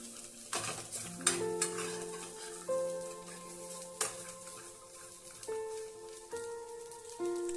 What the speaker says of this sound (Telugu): మధ్య మధ్యలో ఇలా కలుపుతూ ఉండాలి లేకపోతే మాడిపోతాయి